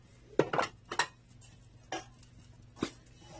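A spoon knocks against a bowl while corn moi moi batter is mixed, giving a few sharp close clinks, three grouped early and then two more spaced out, over a quiet background.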